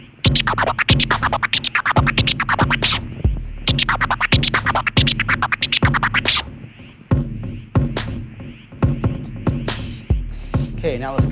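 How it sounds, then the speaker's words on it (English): Loud turntable push scratches repeat in quick rhythmic bursts over a thumping beat, then thin out into sparser cuts near the end. "Okay, now let's mix that with the push. Same scratch."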